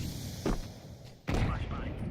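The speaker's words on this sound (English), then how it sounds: "Throwing flashbang" Two muffled booms from a flashbang grenade in a tactical shooter video game, the second heavier, with voices faintly underneath.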